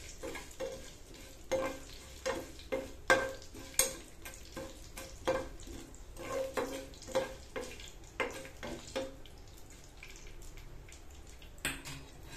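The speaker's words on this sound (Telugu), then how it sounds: "మెంతులు వేగుతుంటే కొంచెం గోల్డ్ కలర్ వచ్చేలాగా వేయించుకోవాలి తాలింపు" Fenugreek seeds frying in hot oil for a tempering, a soft steady sizzle broken by repeated crackling pops and stirring scrapes across the whole stretch, close by with no voices.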